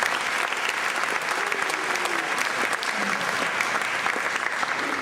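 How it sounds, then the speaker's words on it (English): Audience applause at a conference talk, a dense, steady wash of clapping from a seated crowd that holds evenly throughout, with a faint voice briefly audible beneath it. "So please give him a warm round of applause."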